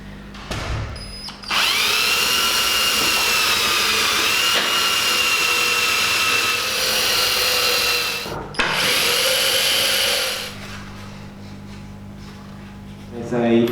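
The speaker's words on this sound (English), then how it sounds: "now I'm going to drill the holes for the knobs" An electric drill bores knob holes in a wooden guitar body, a steady high whine with a pause, brief restart and a second burst, close and loud, before spinning down.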